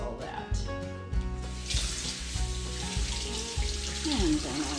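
Tap water running steadily into a kitchen sink as dirty food is rinsed, a continuous close wash of water, with brief faint talk while cooking a German dish.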